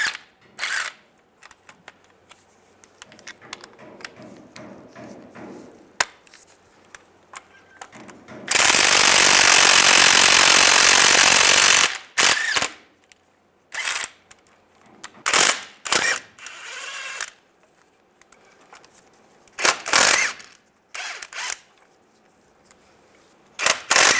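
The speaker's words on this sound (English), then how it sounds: "Using a 15mm socket, we'll take these bolts out." Axle bolts coming out of a 2007-2013 Chevy Silverado with a 15mm socket: a loud, sustained burst from a power tool, then repeated short, sharp bursts and ratcheting clicks close by.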